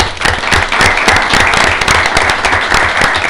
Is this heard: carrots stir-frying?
no